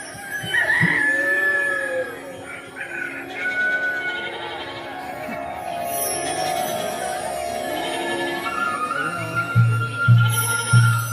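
A rooster crows and hens cluck over a busy musical backdrop of a Marathi gaulan folk performance, the crowing loud and up close.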